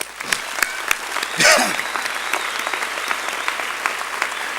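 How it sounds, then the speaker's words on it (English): A crowd claps steadily in warm applause at a graduation ceremony, loud and sustained, with a swell of cheering partway through. "join me in giving a warm round of applause"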